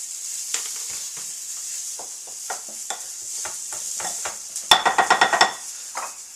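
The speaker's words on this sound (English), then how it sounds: "Take some of this broth and bring it together." Cornmeal tamale dough being mixed by hand with broth, giving a series of wet, sticky squelches and slaps in an uneven rhythm, close and fairly quiet, with a quick burst of sharper strokes near the end.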